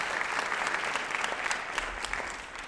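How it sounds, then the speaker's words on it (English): Applause at a business conference, a crowd clapping steadily and moderately loud from a distance for the host, without a break. "A round of applause to Jenny."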